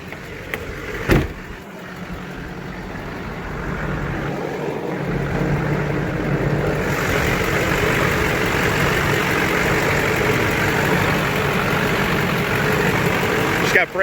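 A diesel Duramax work truck engine turns over and settles into a steady, loud idle with a low rumble that continues unbroken to the end.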